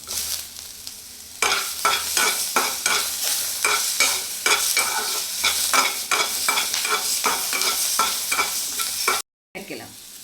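Masala spices fry in a pan for mushroom curry while a spoon stirs in quick, regular scraping strokes over a loud continuous sizzle, then a brief cut near the end.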